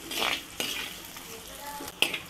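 Onions sauté in a pan for pepper chicken roast, a light sizzle broken by several metallic scrapes and clinks of a spoon stirring against the pan.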